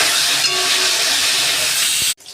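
Bhetki fish pieces dropped into hot oil with fried cumin, a loud steady hissing sizzle that cuts off abruptly near the end.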